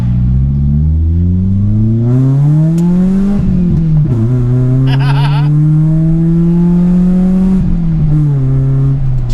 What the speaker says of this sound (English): a cheeky 3-point turn, they wouldn't allow it on the old driving test